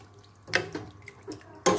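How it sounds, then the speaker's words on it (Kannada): Water is poured into a pot of chicken curry in a few short splashing bursts, near and moderately loud, separated by quiet gaps. "ನಿಮ್ಗೆ ಎಷ್ಟು ನೀರು ಬೇಕೋ ಅಷ್ಟನ್ನು ನೀರನ್ನ ಹಾಕ್ಕೊಳ್ಳಿ."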